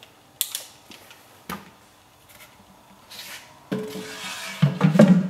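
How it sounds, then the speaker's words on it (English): Catch pot being fitted into a resin trap on a detachable lid, heard as several close clunks, scrapes and creaks of parts knocking and sliding into place, ending in a louder rattling fit. "when I put the catch pot in"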